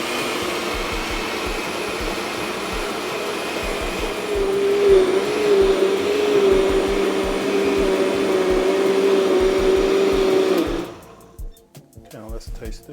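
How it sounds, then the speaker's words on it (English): A loud motorized blender runs continuously blending green seasoning with parsley, its pitch shifting slightly, then cuts off abruptly near the end, leaving a few clatters. "Now we're going to finish blending."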